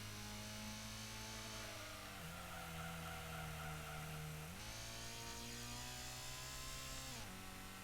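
A synthetic-sounding car engine from Gran Turismo on PlayStation, a Honda Prelude, drones at steady pitch, shifting abruptly up and down as gears change, with a thin whine on top.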